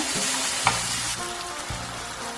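Chopped tomato sizzling and frying in a hot pan, a steady close crackle with a few stirring scrapes and no talk.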